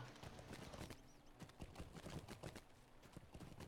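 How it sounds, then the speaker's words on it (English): Horse hooves clip-clop at a steady trot in the video game Lord of the Rings Online, a dense patter of close hoofbeats running throughout with no talk. "Okay, let me hop on a horsey."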